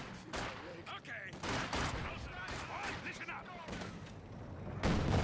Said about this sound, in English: Got now the T-70 firing away, getting a bit of damage on the Pioneer